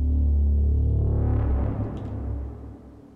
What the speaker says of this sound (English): it adds like this really muddy sound under the already super heavy distortion